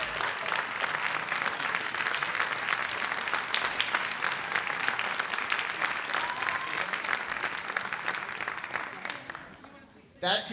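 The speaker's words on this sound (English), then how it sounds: "another round of applause for the 5th graders" An audience claps for 5th graders at an elementary school DARE program graduation. The applause is loud, dense and sustained, with cheering mixed in, then fades out over the last second.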